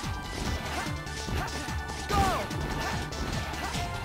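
Glass smashes in the Mega Man ZX Advent video game, a single crash with a brief shattering tail over a busy background of game music and effects.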